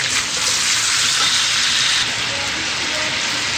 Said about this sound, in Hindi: हम अपने चिकन को तेज आंच पे फ्राई करेंगे।